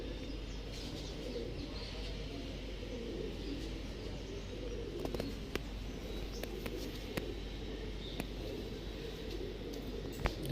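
Panjabi pigeons in a loft coo low and steady against a dense murmur of many birds, with occasional faint chirps over a continuous background.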